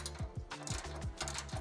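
Nuts being threaded and tightened onto bumper studs of a Toyota Tacoma while fitting an aftermarket front bumper, giving a steady run of quick metallic ratchet clicks, close and fairly loud, repeating in short bursts.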